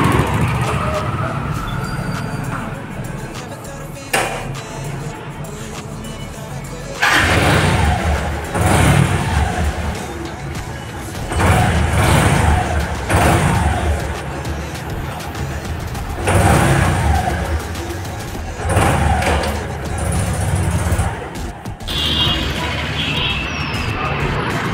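A Suzuki Hayate motorcycle with a speedometer gear problem runs through traffic. The engine drones and surges in repeated bursts alongside road and wind noise, and a rider's voice comes and goes over it.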